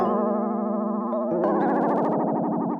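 Rhodes electric piano chords waver audibly in pitch from a tape wow effect, a slow tape-like wobble bending each sustained note, played alone at moderate volume.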